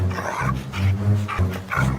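Cartoon dogs bark and snarl in a steady, rough stream as a pack chases a fox, with no voices over the noise.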